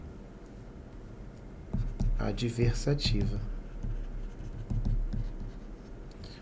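Pen writing on paper during a Portuguese grammar lesson on commas, soft scratchy strokes running under a teacher's continuous speech.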